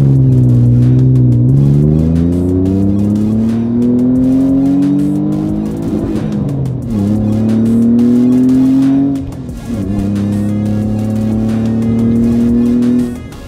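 A Nissan 350Z accelerates hard on a highway, its engine loudly rising in pitch through successive gears with brief dips at each shift, close and continuous with no talking.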